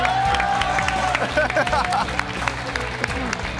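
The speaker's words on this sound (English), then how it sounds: "We're going to get that very noisy audience to cheer" A loud esports arena crowd at a Street Fighter V tournament claps and cheers continuously, a dense wash of applause with whoops and a host's amplified voice over the top.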